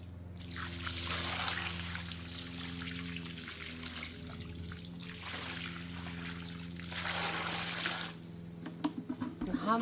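Water poured from a bucket into a concrete mix for a Husafell stone replica trickles and splashes in several surges, strongest at the start, middle and near the end, quiet and close.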